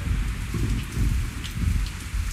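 Rain and thunder play in the video game Zafehouse Diaries. A steady, loud downpour hisses throughout, with deep rolling thunder rumbling underneath, and no voices.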